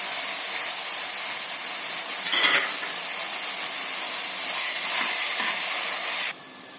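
Ginger garlic paste sizzles with partly golden onions in a hot pan, a steady broad hiss of frying with a brief stirring burst midway, close and fairly loud, cutting off abruptly near the end.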